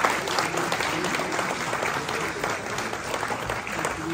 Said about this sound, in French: Je pense qu'on peut leur faire un applaudissement relativement soutenu.